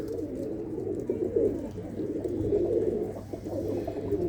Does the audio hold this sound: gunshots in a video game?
no